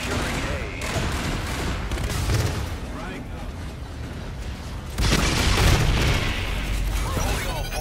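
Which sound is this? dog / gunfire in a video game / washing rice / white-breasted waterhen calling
gunfire in a video game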